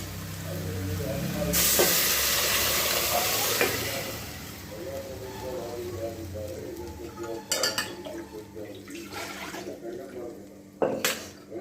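Stone-ground greens tipped into a pan of well-fried onions, a burst of loud hissing sizzle that settles into steady frying, with a few sharp clinks of a utensil against the pan near the end.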